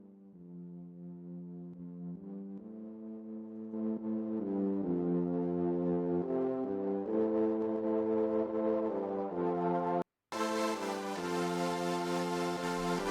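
Digital plugin synths on a synth bus with distortion play a sustained, buzzy chord that swells gradually and brightens, then cuts out briefly before returning harsher and fuller.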